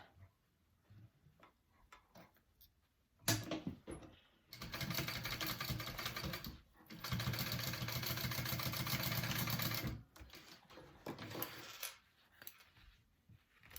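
A sewing machine stitches a seam on a sling bag in two loud, close, continuous bursts of running motor hum separated by a short break, with quiet handling noises before and after.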